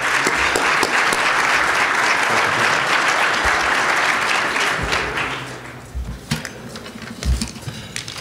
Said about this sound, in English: Let's give our mayor a rousing hand of applause.